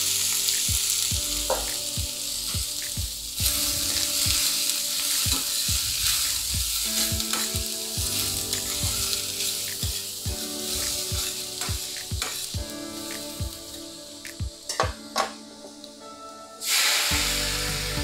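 Onion frying in hot olive oil for Mexican-style mushroom quesadillas, a loud crackling sizzle with repeated spoon taps and scrapes against the pan, cutting off abruptly near the end.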